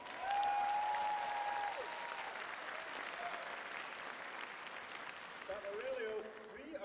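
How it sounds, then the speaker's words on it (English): Audience at a tribute event for Aurelio Martinez applauding, a sustained, fairly distant wash of many hands clapping with a faint steady tone beneath and some talk in the background. "Let's give him a big applause."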